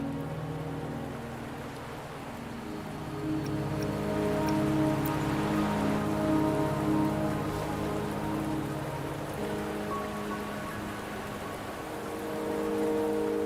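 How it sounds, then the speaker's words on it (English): Steady rain falling on surfaces in the video game Wuthering Waves, a dense continuous patter swelling slightly midway, layered over a low sustained musical drone. "Don't worry, the rain won't last much longer."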